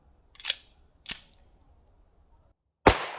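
Three sharp, short cracks from a Springfield Prodigy pistol, two lighter ones close together followed after a pause by a louder, fuller shot at the end, with quiet gaps between.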